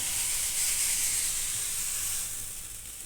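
Pieces of guava fry in ghee in a pan for halwa, making a soft, steady, high hiss that is close and unbroken, fading slightly toward the end, with no one talking.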